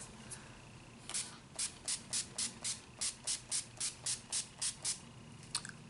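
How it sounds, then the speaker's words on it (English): A rapid series of about thirteen short, sharp spritzes of NYX Matte Finish setting spray, evenly spaced and close to the microphone, over quiet background hiss. "I will be using the NYX Matte Finish Setting Spray."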